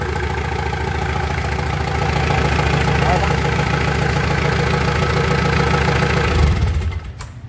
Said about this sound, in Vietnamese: Bỏ máy nổ cực kỳ mạnh luôn em.